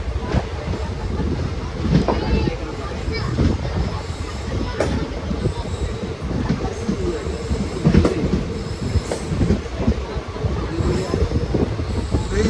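A train stands at or moves through a station on the line toward Palani, giving a steady rumbling rail roar with squealing wheels and occasional clanks, fairly close and continuous, with no voices standing out.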